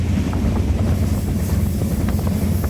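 A train rolls through the Dooars with a steady, loud low rumble and rattle, light rhythmic clacks of the wheels, and wind buffeting the microphone.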